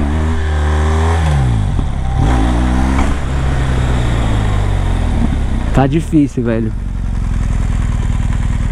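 A BMW 1200 motorcycle engine revs hard during a wheelie, its pitch rising and falling in bursts with a sharp throttle blip near the end, while someone speaks briefly over it.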